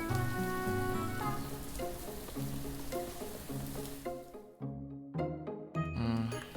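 Steady rain falls in a video game, a soft hiss spread beneath gentle background music before the music turns sparse and plinking.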